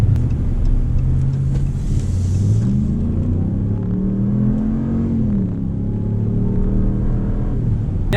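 A 2019 Ram 1500 Big Horn pickup truck revs up and accelerates at full throttle, a steady loud rumble with rising pitch sweeps, close by and without talk.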